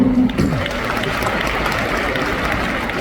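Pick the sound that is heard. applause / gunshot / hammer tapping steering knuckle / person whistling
applause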